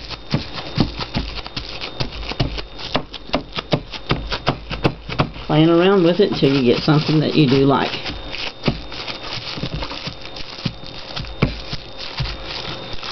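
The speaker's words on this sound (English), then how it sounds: "go right back and pounce it some more with your wax paper or your" Paint being dabbed and pounced with crumpled wax paper or plastic wrap, quick crinkly tapping pats in irregular bursts, close and soft, with someone talking over much of it.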